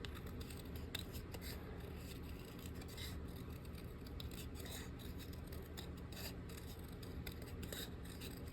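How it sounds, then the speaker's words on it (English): Scissors snip and rasp steadily through thick paper as it is trimmed smaller, a close, continuous cutting sound with repeated strokes and no talking. "Cut one a little smaller again."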